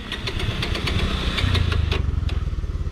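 A motorcycle engine catches after a push start on a village road in Nawalparasi, Nepal, running with a steady close-up idle and a rhythmic pulsing throb that swells slightly midway, no voices heard.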